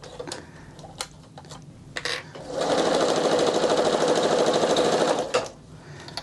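A sewing machine stitching the seam of a doll's circle skirt for a Barbie dress: a steady, close mechanical whir with a fast rapid-fire needle rhythm lasting about three seconds, preceded by light clicks and handling noises.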